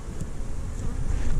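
Honey bees buzz from the lid of an opened hive, a low steady drone close to the microphone, swelling slightly over the moment with some wind rumble underneath.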